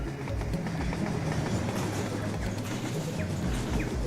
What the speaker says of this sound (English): Got another train running the upper level up here.